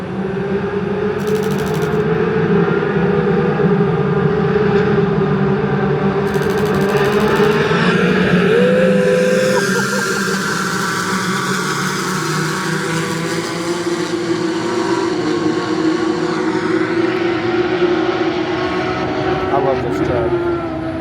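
Porsche race cars run at Road Atlanta, giving a loud, continuous engine drone with a shifting pitch that holds steady throughout, with a voice talking over it.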